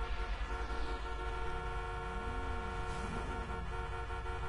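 Car horn in the GTA video game, sounding in a short series of honks over a constant engine drone.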